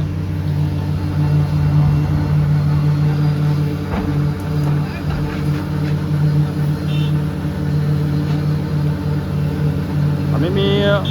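A Volvo EW205D wheeled excavator runs at a concrete paving site, its engine giving a steady, loud low rumble with a continuous idling drone throughout, plus some brief higher clatter near the end.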